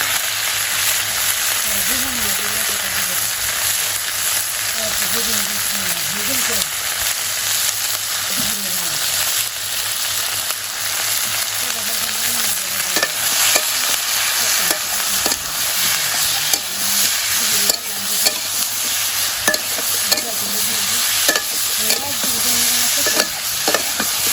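Tomato and eggplant sautéing with salt, turmeric and chili in a village kitchen pan, a constant close sizzle with repeated spatula stirring and scraping and some talk over it.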